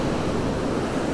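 Waves of the South China Sea wash onto Shek O Beach on the eastern side of Hong Kong Island, making a steady, broad roar of surf with some wind noise and no distinct individual breakers.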